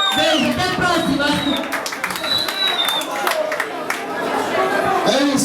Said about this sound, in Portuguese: É isso, uma salva de palmas, Sandrinha e convidados.